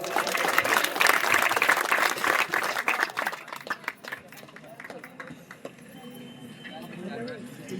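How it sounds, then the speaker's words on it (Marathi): Audience applause at a reunion get-together party for a 1992 tenth-grade batch and their teachers, loud dense clapping that fades after a few seconds into scattered claps and murmuring voices. "यांच्यासाठी पुन्हा एकदा जोरदार टाळ्या वाजवा"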